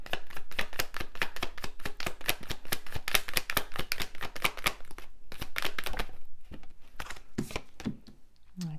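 Tarot cards are shuffled and drawn in rapid, dense riffling bursts of papery flicks and slaps, close and fairly loud, then slowing to a few separate card snaps near the end.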